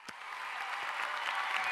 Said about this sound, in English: Oh, the crowd's going wild for you.